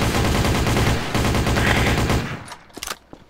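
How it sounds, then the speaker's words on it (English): Rapid bursts of automatic gunfire in Trouble in Terrorist Town, dense and loud for over two seconds, then breaking off into a few sharp, scattered single shots as the clip fades. "You kept shooting."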